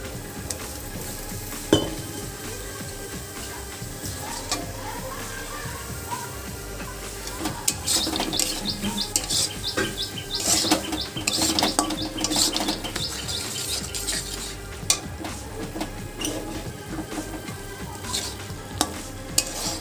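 Capsicum cooking in a pan of spiced gravy for paneer butter masala, with constant stirring and spoon scrapes over a soft sizzle, close and busy, brief metallic clinks, no talk.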